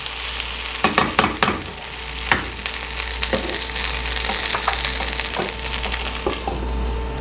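Corn mutton fries in a non-stick pan with a low steady sizzle, punctuated by several sharp clicks and scrapes of stirring, with a faint hum underneath.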